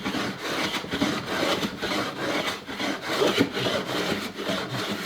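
Steady, gentle scraping of a hand cutting tool over the wood of a Telecaster body, taking off planer marks in repeated even strokes, close and fairly quiet with no voices.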